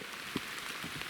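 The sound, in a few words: rain falling during turkey hunt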